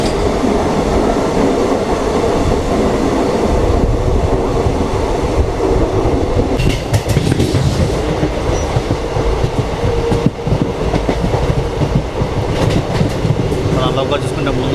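The 17420 Vasco-da-Gama to Tirupati weekly express rumbles along in a loud, continuous roar with rhythmic wheel clatter and brief metallic squeals, heard from on board, with some voices faintly mixed in.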